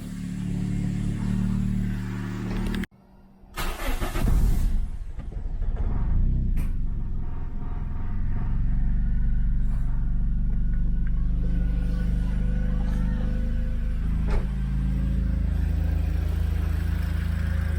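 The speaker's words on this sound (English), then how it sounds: "Alright, so the car started." A turbocharged Toyota Corolla engine idles steadily after starting, a loud continuous low rumble with a brief dropout and clatter near the start, then an even drone throughout.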